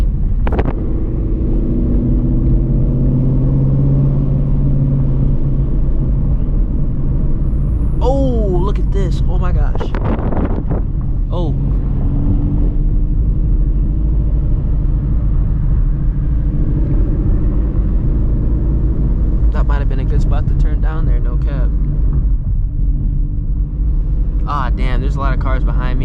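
A straight-piped Shelby GT350 V8 idles with a loud, deep continuous rumble in the city at night, broken by a few sharp revs rising and falling, while people talk over it.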